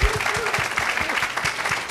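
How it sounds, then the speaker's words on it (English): An audience applauds the First Lady at a Black History Month celebration, a continuous spread of clapping heard over a low, rhythmic thumping beat in the background. "You may applaud the First Lady once again."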